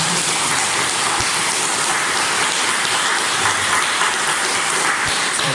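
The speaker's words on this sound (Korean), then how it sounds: "힘차게 박수 치면서 환영해 주시기 바랍니다" A church congregation claps in welcome as Bibles are handed out, producing a dense, steady wash of applause that sounds almost like heavy rain and holds at an even loudness throughout.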